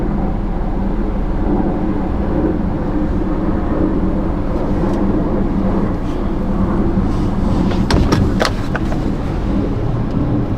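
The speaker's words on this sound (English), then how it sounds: "That sounds like a bigger plane" A large airplane passes over wildfire country as a steady, broad low roar that fills the whole stretch, with a few brief knocks near the end.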